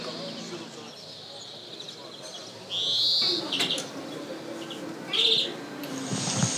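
A songbird kept by Istanbul bird fanciers, one with a fuller voice than a goldfinch or canary, sings two short bright trilled bursts over a muffled background with some voices.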